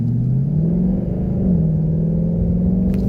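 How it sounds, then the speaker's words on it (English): A deep, rumbling V8 exhaust note from a 2019 Ford Mustang GT PP1 in normal exhaust mode climbs and drops through gear changes during a hard 0-60 run, loud and steady throughout. "this will be a 0-60 in normal exhaust mode."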